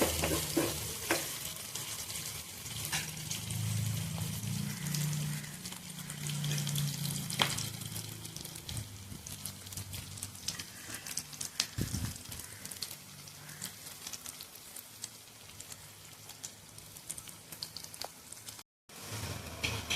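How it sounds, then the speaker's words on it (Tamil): Onions sizzle steadily in a pan while being fried golden brown for a fish curry (salai meen kulambu), a continuous close crackling hiss with no voices. "நல்லா கோல்டன் ப்ரௌன் ஆகிற அளவுக்கு வதக்கியாச்சு"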